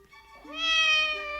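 A single drawn-out cat meow from The Black Cauldron, rising in pitch and holding clear and close before tapering off, heard alone.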